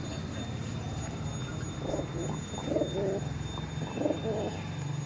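Giribaj pigeons, high-flying breed, cooing in a few low murmuring bursts over a steady background hum, moderately faint with no clear talk.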